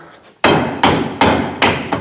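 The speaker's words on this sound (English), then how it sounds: "Then we grab a hammer." Five loud hammer blows ring out on a metal part of a Ford Ranger during transmission removal at a steady pace, each with a sharp clang and short metallic decay.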